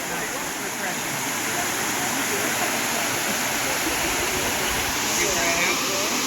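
El Limon waterfall in the Dominican Republic, a loud, steady roar of falling water that stays constant and close throughout.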